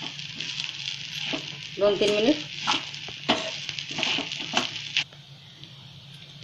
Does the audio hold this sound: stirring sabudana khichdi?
yes